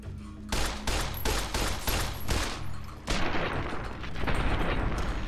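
10mm pistol gunfire in Fallout New Vegas, a quick string of sharp, evenly spaced shots up front, then a denser, rumbling stretch of combat noise that stays fairly loud.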